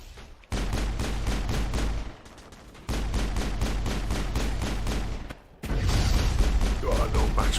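Sustained gunfire crossfire in the Mass Effect video game, Virmire mission, loud continuous bursts and rattling shots with brief lulls near the start and middle, a dense wall of combat noise throughout.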